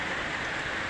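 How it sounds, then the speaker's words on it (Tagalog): Steady, dense rain patters and hisses continuously throughout, fairly loud and close, with no voices. "Umuulan"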